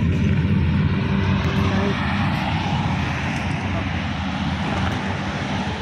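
Big bike motorcycles roar past on a road near a lake park in Abu Dhabi, a loud continuous engine drone that fades slightly over several seconds, with people talking underneath.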